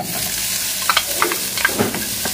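Onions tipped into a frying pan of hot oil for chicken tinola sizzle steadily, broadband frying hiss with a few brighter crackles and light stirring clatters throughout, close and alone.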